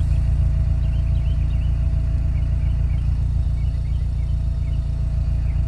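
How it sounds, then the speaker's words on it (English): A Toyota GR Supra 2.0 idles in regular mode, heard from outside the car as a steady, quiet low rumble with a faint hum, breeze and birds chirping faintly in the background. "So this is outside the car in regular mode, just at idle."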